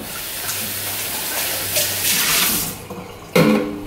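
A pan rinsed under a running kitchen tap while making a large high-protein pancake; steady broadband water rush for about three seconds, close and fairly loud, then it stops with a brief clatter near the end.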